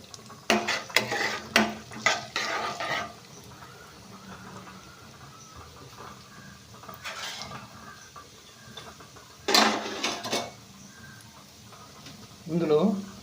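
Tempering seeds, urad dal, chana dal, cumin and mustard seeds are stirred in a pan, with short bursts of scraping and clattering against the metal separated by quieter stretches of faint frying.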